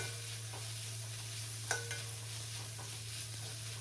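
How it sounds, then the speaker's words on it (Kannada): Capsicum stirred into egg rice in a pan gives a faint, low background sizzle, broken by a few soft scraping and tapping sounds from the spoon, with no talking over it. "ಕ್ಯಾಪ್ಸಿಕಮ್ ಹಾಕೊಂಡು ಈಗ ಮಿಕ್ಸ್ ಮಾಡ್ಕೊಳ್ತಾ ಇದ್ದೀನಿ"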